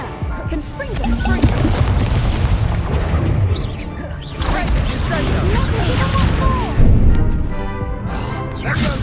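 Confringo fire spell blasting in the Hogwarts Legacy video game, a burst of crashing explosions and impacts amid busy game effects, with a character's voice heard over the action.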